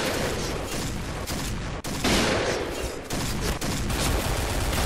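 AK-47 bursts ring out in the online shooter Point Blank, loud, dense, rapid automatic fire that runs almost continuously and breaks only briefly, with no talking.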